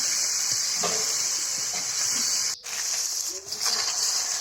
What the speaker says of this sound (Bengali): এখন একটু নেড়ে চেড়ে আমি মশলাটাকে সুন্দর করে কষিয়ে নিই